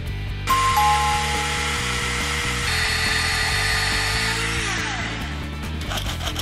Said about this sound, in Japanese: まずはシャーシをバンパーカットしていきます。